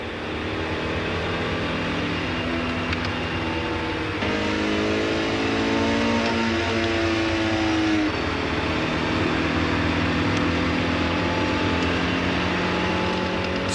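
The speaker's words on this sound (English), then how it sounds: "cars are driven here at high speeds" Cars run at high speed on the Volkswagen Group test track at Ehra-Lessien, Germany, with a steady engine drone overlaid by a rising and falling whine as a vehicle passes.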